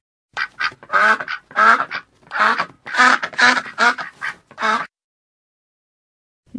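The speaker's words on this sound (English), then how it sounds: "Duck." A duck quacks in a steady run of about a dozen loud, close, raspy calls, then falls silent.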